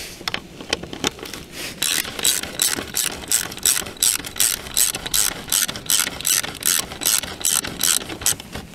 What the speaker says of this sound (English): It's either, I believe it's an 8mm, or you can use a screwdriver, but we'll try the socket first.